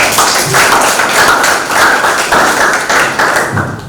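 A group in a classroom teaching session claps in an even, rhythmic beat, loud and close, with repeated sharp slaps about twice a second.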